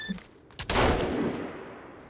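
Gunfire while riding a scooter in Sons of the Forest: a sharp shot cracks out, then a dense burst of firing spreads into a loud, sustained noisy wash that slowly fades.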